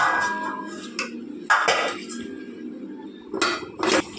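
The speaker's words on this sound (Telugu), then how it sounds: "ఇలా బాగా మిక్స్ చేసుకున్న తర్వాత మనం మూత పెట్టేసుకుందాం." A lid goes onto a pan of brinjal masala curry in a home kitchen, giving a few sharp metallic clinks and clatters spaced across a few seconds, close and fairly loud with no talk.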